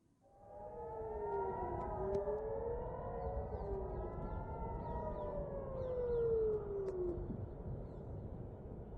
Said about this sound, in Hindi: इजराइल के अंदर सायरन भी बजा दी गई है।